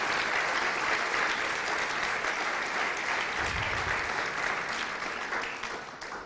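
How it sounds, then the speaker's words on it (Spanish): A church audience gives sustained applause, a thick wash of many hands clapping that holds steady and loud, then begins to taper off toward the end. "Si me le puede dar un aplauso al Señor"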